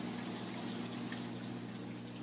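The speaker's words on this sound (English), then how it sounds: "the water just drains off" Water drains steadily off a slotted, routed drain panel in a saltwater aquarium build, a continuous soft trickle and rush with a low pump hum beneath, faint and unbroken throughout.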